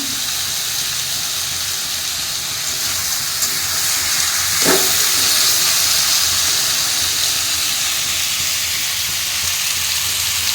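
Potatoes fry in a pan with a steady hiss and sizzle throughout, with one brief louder burst partway through and no talking.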